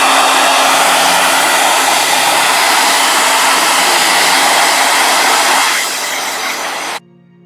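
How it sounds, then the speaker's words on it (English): A blow dryer roars steadily for about seven seconds, loud and close, a broad even hiss that dips slightly before cutting off abruptly. "All right, blow dryer."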